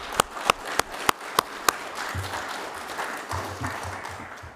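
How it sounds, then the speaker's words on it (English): Applause at a county council regular meeting, opening with a few sharp separate claps in a slow run and then a softer spread of scattered clapping, with a low voice murmuring near the end. "they deserve a good hand of applause"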